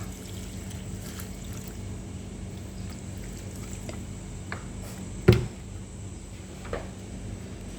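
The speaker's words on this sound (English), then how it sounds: "And you add water." Water is poured over pounded celery and lemon in a mortar for a home juice remedy, a faint, steady trickle with one sharp knock partway through.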